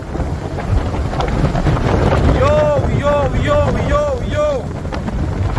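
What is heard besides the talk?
hurricane wind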